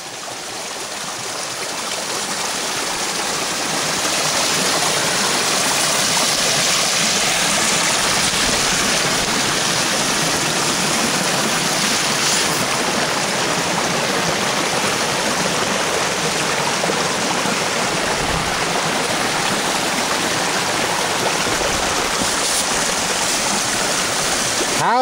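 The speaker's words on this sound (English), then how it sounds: "How is that for a waterfall in Elbert County?" A waterfall on rural land in Elbert County, Georgia, pours in a steady, dense broadband rush that swells over the first few seconds and then holds loud and unbroken, with no voices.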